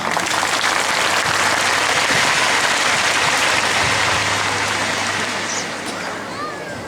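Loud sustained applause from a crowd at a church diamond jubilee celebration, dense clapping throughout that tapers slightly toward the end, with faint crowd murmur.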